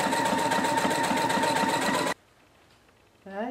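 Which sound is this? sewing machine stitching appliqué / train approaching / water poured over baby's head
sewing machine stitching appliqué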